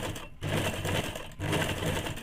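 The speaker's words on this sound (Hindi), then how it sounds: "इसलिए इसमें हम लोग चाप सिलाई भी डाल देंगे" Sewing machine running top stitching along a woolen ladies' scarf, a steady rapid mechanical whir in two bursts separated by brief pauses, close and loud.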